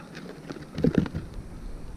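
Garden cucumbers, gritty with sand after heavy rain, being rinsed off with water: a soft, close patter and splash that swells briefly in the middle and then settles into a low trickle.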